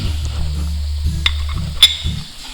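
Kaleji (liver) being stirred in a pan with garam masala and fresh coriander, a spoon scraping through the sizzling mixture in a few rhythmic passes with a couple of sharp metallic clicks against the pan, close and moderately loud.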